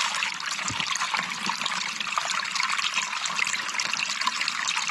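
Cold water runs and trickles steadily over a large blue quartz rock as it is washed outdoors, a continuous close splashing wash with no talking.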